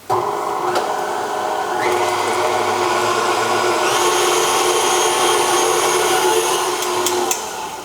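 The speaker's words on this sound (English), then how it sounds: "now we're going to whisk this on medium until all of these ingredients are well combined" An electric mixer whisks pear tart filling ingredients on medium speed, a loud continuous motor whir with a shifting pitch, then it tapers off at the end.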